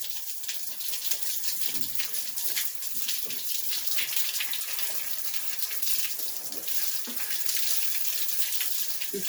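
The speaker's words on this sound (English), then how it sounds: "Yep, see, there's the water coming out." Water gushes steadily from a house pipe, likely an outdoor line with a newly installed shut-off valve, a continuous hissing splash that stays close and fairly even, with no voices.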